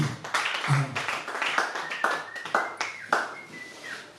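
A church congregation claps in a steady rhythm during a worship service, close and fairly loud, with a voice calling out over the clapping.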